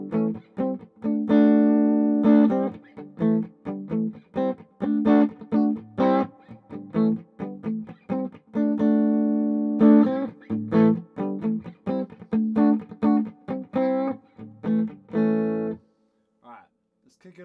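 Electric guitar through a small practice amplifier fitted with a larger speaker plays a steady sequence of strummed chords at moderate volume, clean and rhythmic, ending with a brief quiet tail.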